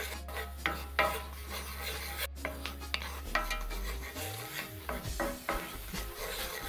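Garlic sauteing in oil in a pan on low heat, soft scraping and stirring strokes over a low hum and a gentle sizzle, close and without talk.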